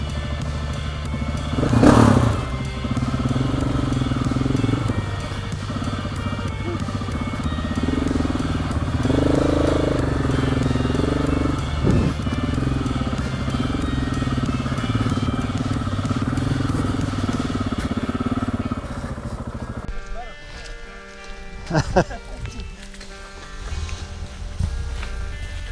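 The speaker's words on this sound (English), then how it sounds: "The BMW 1200 GS was the biggest bike on this trip" BMW 1200 GS adventure motorcycle on a trail, its engine droning steadily close by with a rise in revs, then dropping away abruptly as it passes.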